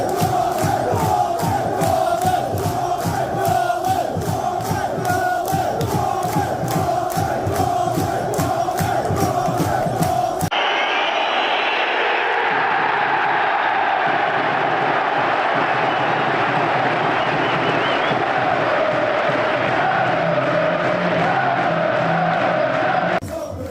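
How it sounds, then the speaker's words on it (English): Football crowd in a stadium roaring and chanting "Blue Army" in loud rhythmic bursts with clapping, then a massive sustained roar of many voices, close and dense throughout. "just those chants of Blue Army"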